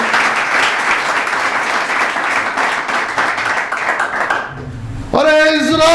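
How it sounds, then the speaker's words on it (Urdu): Church congregation at an Urdu service in Sohar giving loud, sustained applause for the Lord, dense steady clapping filling the room for several seconds before fading, after which a voice begins speaking. "آئیے خداوند کے لیے زوردار تالی۔"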